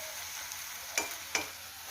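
Sliced onions fry in a tempering of cumin, mustard seeds and curry leaves with a soft, steady sizzle. Two faint clicks from a utensil against the pan break through the sizzle.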